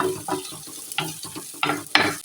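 Masala for a drumstick gravy fries and is stirred in a pan, with loud, close bursts of scraping and sizzle in uneven strokes and no talk.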